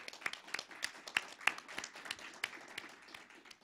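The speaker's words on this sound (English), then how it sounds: "Let's have a round of applause for all of them." Scattered applause from a conference audience for a legal panel, a handful of distinct, uneven claps rather than a dense ovation, moderately near and fairly quiet.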